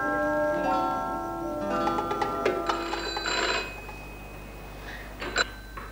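A telephone rings in an indoor domestic scene from an Iraqi drama series, its repeated trilling bursts clear and fairly close, with faint clatter and no talk.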